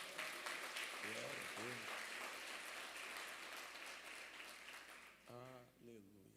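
A church congregation applauds a visiting singer with steady, dense clapping that fills the room, while a preacher's voice carries over it.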